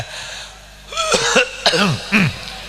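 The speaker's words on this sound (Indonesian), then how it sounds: "Iki batuk temen iki" A few harsh coughs, close and loud, bunched into short bursts with brief pauses between them, over a quiet background.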